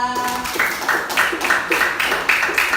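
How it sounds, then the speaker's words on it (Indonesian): Children in a classroom clap for a classmate, a rhythmic, fairly close burst of steady beats following a brief voice at the start. "Tepuk tangan buat Arya."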